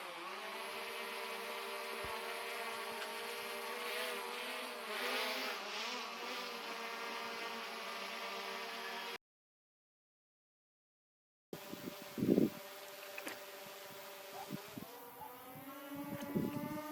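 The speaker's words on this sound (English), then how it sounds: "I put some of the sound effects to the drone as it flies away." A drone's buzzing rotors whine with shifting pitch as it flies off, a steady insect-like hum that cuts out briefly and returns fainter with small bumps of wind.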